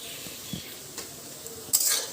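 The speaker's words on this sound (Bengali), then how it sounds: "কুচানো পেঁয়াজটা তেলের মধ্যে দিয়ে দিচ্ছি" Chopped onion dropped into hot oil in a home kitchen pan, giving a faint, quiet stir-fry background that breaks into a sudden burst of hissing sizzle near the end.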